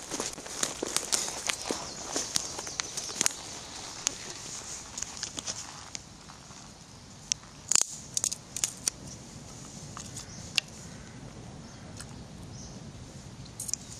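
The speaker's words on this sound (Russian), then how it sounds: "Далее выстругиваем основание этих сучков." A knife whittling shavings from the base of twigs in a damp forest while preparing fire kindling, with short dry scraping strokes in an irregular rhythm, close and fairly quiet, with a few sharper cuts midway.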